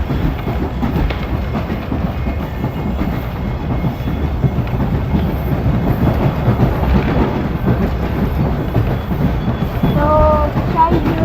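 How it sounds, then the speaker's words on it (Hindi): Safari passenger train running between Rawalpindi and Attock, its wheels clattering steadily and loudly on the railway track in a continuous rumble, with a brief higher squeal or horn tone near the end. "बहुत अच्छे ट्रैक साउंड के साथ हम गोल्डा शरीफ रेलवे स्टेशन की तरफ रवा दवा है।"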